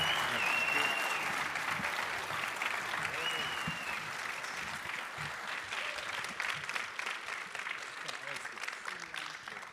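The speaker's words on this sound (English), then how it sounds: "let's give another round of applause to these guys" A festival audience at SXSW gives sustained applause to welcome panel guests, a dense steady wash of clapping that slowly thins, with voices speaking over it.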